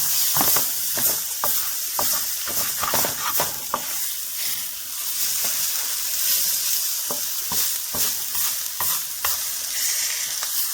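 Egg whites, peppers and onions sizzling steadily in a frying pan, close and continuous, with a series of sharp scraping taps from a spatula stirring the food.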